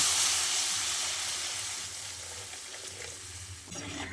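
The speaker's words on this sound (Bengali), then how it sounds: "এবার আমি এর মধ্যে পরিমাণ মতো জল দিয়ে দিচ্ছি।" Water poured into a pan of potatoes and spices frying for a fish curry sets off a loud, steady sizzle and hiss that gradually settles, with stirring noises near the end.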